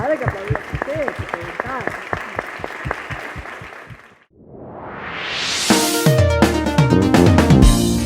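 Audience applause fills the first half of a conference talk in Rosario, steady dense clapping beneath a voice, then fades out before music rises to close.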